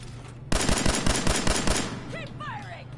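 Automatic gunfire in Fallout 4, a rapid burst of about a dozen sharp, loud shots in a steady rhythm, followed by trailing whooshing and ringing tones as the burst fades.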